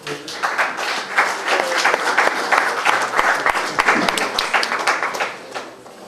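Audience applause at a Lions Club Valle dei Templi bell-passing ceremony in July 2022, steady dense clapping from a sizeable crowd lasting throughout, fading slightly at the end.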